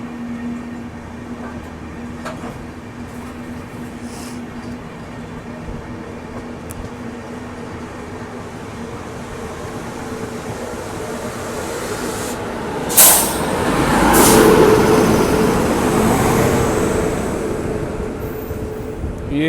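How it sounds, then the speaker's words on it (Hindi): The Bihar Sampark Kranti Express (New Delhi to Darbhanga) rumbles steadily, heard from on board as it overtakes another train, with a low droning hum and a swell of louder rushing noise toward the end. "अभी अपनी ट्रेन ओवरटेक कर रही है"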